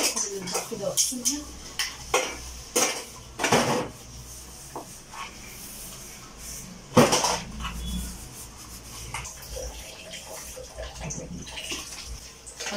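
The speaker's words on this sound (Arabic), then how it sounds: "هبدأ بقى اخد المواعين كده واغسلها" Dishes and cutlery clink and clatter under running water, with scattered bangs of plates being handled close by.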